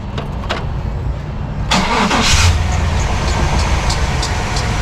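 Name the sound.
new starter cranking a 1998 Chevy 350 truck engine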